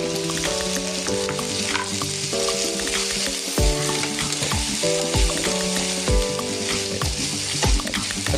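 Chopped tomato frying with onion in a pan for dhaba-style chicken handi, a continuous loud sizzle with regular spatula knocks and scrapes against the pan, alone over background music.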